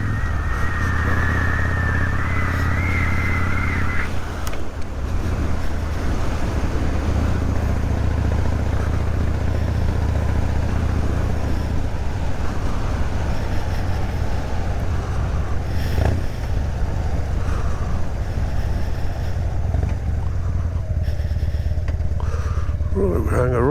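A Harley-Davidson Dyna Glide Street Bob rumbles steadily through a winter ride, its low engine drone constant and near with wind roar layered over it; briefly a higher engine note rises early on.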